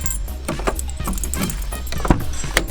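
Car keys jangle in a series of bright metallic clinks beside a replacement car, close and fairly loud against a low background rumble.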